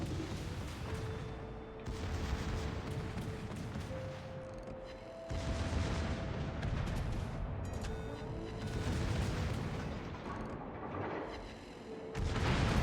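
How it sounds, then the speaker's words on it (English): Secondary guns on the battleship Massachusetts fire at a New Mexico in World of Warships, heard as repeated booming volleys and rumbling blasts over a constant low engine drone, fairly loud and without talk. "the secondaries can finally fire at the New Mexico"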